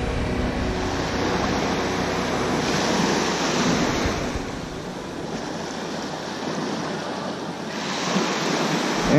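Ocean waves break and wash steadily onto a beach in the surf, a loud continuous roar with rising and falling swells and some wind buffeting the microphone.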